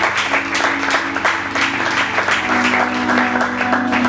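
A church congregation claps together through a Sunday worship service, a loud continuous wash of applause over a faint sustained musical hum.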